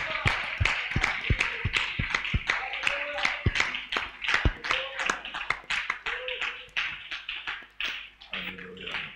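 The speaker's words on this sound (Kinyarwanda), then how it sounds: "oh, donnons-lui des acclamations." A church congregation at a prayer service claps in quick regular rhythm, the sharp close claps carrying under singing and shouted praise.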